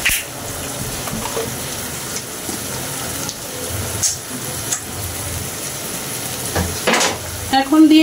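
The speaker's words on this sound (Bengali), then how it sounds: "সুন্দর করে নাড়াচাড়া করে আমার নুডলসটা রান্না কমপ্লিট হয়ে গিয়েছে।" Maggi noodles with naga chilies and Maggi masala spice are stirred in a hot pan, a close, steady sizzle with scraping stir strokes and a few louder swells.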